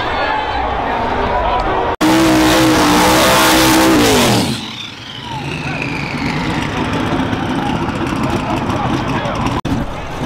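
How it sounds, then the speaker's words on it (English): A Gremlin race car and a diesel truck at a drag-racing shootout roar off together, a loud full-throttle engine blast that fades into the distance, leaving crowd noise and a whine behind. "Gremlin versus Diesel Truck, guys."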